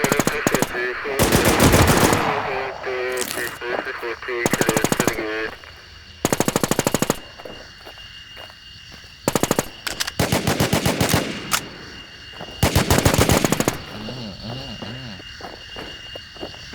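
Bots trade loud automatic gunfire in a battle royale shooter, with repeated rapid bursts of machine-gun fire separated by brief lulls across the whole stretch.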